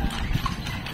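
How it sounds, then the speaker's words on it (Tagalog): Hooves of a horse pulling a carriage clip-clop along Calle Crisologo, a cobbled heritage street in Ilocos, with steady close footfalls and faint voices in the background. "Si Marimar ang aming kabayo."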